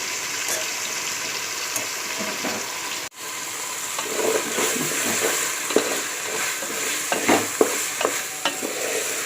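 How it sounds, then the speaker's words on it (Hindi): Prawns frying with onions and browned potatoes for zinga pulao, a continuous close sizzle with occasional stirring knocks and scrapes in the pan, a brief dropout early on, and no talk. "झींगे भी भुने जा चुके हैं प्याज में।"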